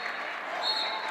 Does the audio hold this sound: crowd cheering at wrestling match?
yes